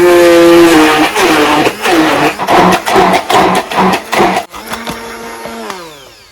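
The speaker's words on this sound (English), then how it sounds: "We'll go ahead and blend all together." An electric blender whirs close and loud, pulsing through garlic, parsley and butter, with the motor pitch rising and dropping in rhythmic surges as it churns, then settling into a steadier high whine at the end.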